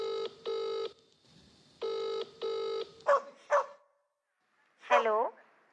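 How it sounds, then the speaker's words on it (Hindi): A telephone ringback tone sounds as a call connects, two crisp double rings in a steady pattern, followed by voices answering the call. "प्लीज फैज की मम्मी को फोन लगाइए"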